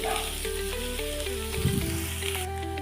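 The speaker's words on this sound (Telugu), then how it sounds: "ఆనియన్స్ ఇది వేయించుకోవాలి ఉల్లిగడ్డలు బ్రౌన్ కలర్లో వచ్చిందాక వేయించాలండి" Chopped onions frying in a hot pan for egg bhurji, a steady close sizzle that runs throughout with occasional stirring scrapes.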